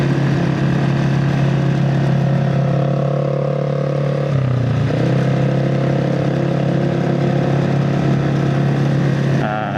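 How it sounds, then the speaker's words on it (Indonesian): Suzuki A100 two-stroke motorcycle riding along, its loose license plate buzzing and rattling over a steady droning engine note that dips briefly midway. "Ini suara plat nomor mengganggu banget dah."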